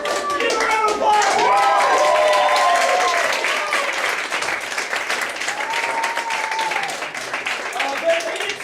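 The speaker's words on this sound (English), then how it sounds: "Give a round of applause." Audience applause at an improv comedy showcase in a small theater, a full burst of clapping that fades slightly, with people talking and calling out over it.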